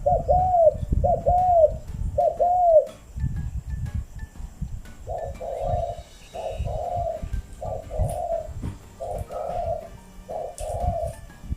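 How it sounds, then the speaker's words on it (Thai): A spotted dove used as a decoy bird coos in a quick repeated series of short rounded notes, pausing briefly between phrases, close and clear over low ambient rumble. "นีโควิดเสียงค่อนข้างใหญ่นะคะทุกคน แล้วก็ครูไว"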